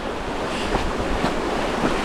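Rushing water of the Guadalevín river in the Sierra de las Nieves, a steady broadband roar close by with no break, filling the whole stretch without voices.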